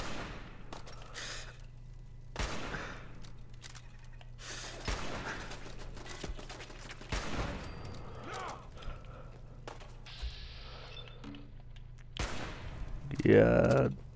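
Scattered shots and mechanical clatter from a Fallout 4 school raid firefight punctuate the stretch, with gasping and voices mixed in and a steady game hum underneath.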